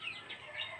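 A chicken clucks briefly near a rural home stacked with firewood, a short, soft burst of fowl calls with no talk.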